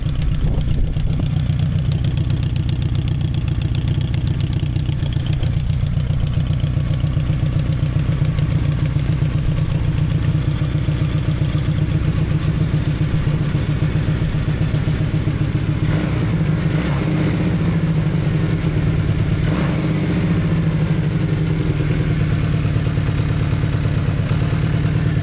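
Honda CD200 motorcycle engine running at a steady idle, a close, loud, even low putter throughout with slight fluctuations and no speech.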